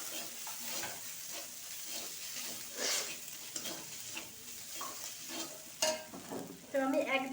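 Ginger paste and dried-chili paste fry in a little oil, giving a close, continuous sizzle with soft crackling, stirred with a spoon that scrapes and taps the pan now and then, louder toward the end.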